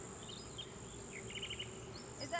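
A steady close buzzing hum of honeybees crawling over a hive frame during an inspection, continuous and even with faint outdoor background.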